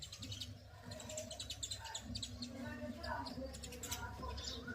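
Sparrows gather to eat rice and wheat grain, chirping in a dense, continuous twitter of quick overlapping tweets over a steady background hum, with faint talk mixed in.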